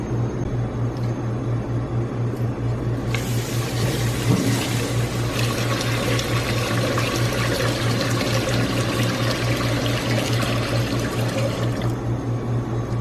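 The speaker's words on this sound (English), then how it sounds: "So after rice is measured in this rice cooker, we're gonna wash it." Water runs and splashes steadily into a rice cooker pot as measured sushi rice is washed, a continuous close rushing pour over a low steady hum, with no talking.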